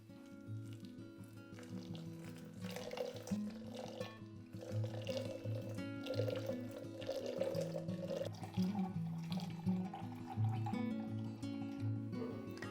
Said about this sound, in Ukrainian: ми будемо зараз його заливати 700 мл води